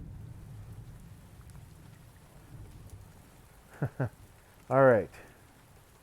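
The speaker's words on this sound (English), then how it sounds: "Only downside of using Thunderstorm as background music" Steady rain from a thunderstorm hisses as a low, constant background bed, with a short spoken word and a louder vocal burst near the end.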